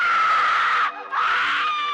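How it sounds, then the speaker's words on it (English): A woman lets out a loud, ear-piercing scream at close range, breaks off for a split second, then screams again just as shrilly. "I woke up to the disturbing and ear-piercing scream of my wife."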